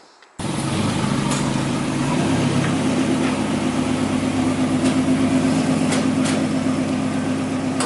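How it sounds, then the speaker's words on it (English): A car engine in a shop fires up and runs steadily while the tires spin on a drift project car with a welded differential, a loud continuous drone with a rough low rumble close by and no speech. "I'm gonna show, spin the tires real quick."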